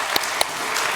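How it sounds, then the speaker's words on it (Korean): A short burst of clapping from a church congregation during a Sunday service, with a couple of sharper claps standing out over a steady patter, fairly close. "우리 하나님께 영광의 박수 돌리겠습니다."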